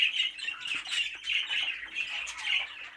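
Young aviary birds squawk in repeated harsh bursts, loud and close, overlapping in an irregular chatter with no talking.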